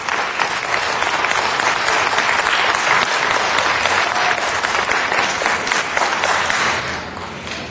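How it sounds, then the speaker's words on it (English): A city council meeting audience applauds, dense sustained clapping filling the room at steady loudness for most of the stretch before thinning slightly at the end. "Could you give a round of applause to my mother, Gladys Wesson?"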